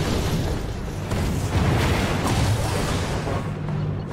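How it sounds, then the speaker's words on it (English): Bombardment in a Command & Conquer game, with heavy explosions rolling together into a loud, unbroken rumble of blasts and booms. "Bombardment underway."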